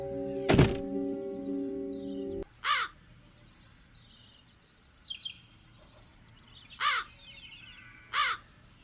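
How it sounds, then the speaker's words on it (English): Crows caw in a video game's outdoor scene, three separate harsh calls spaced a couple of seconds apart over a faint ambient bed, with a loud thunk near the start. "Something's wrong with those crows."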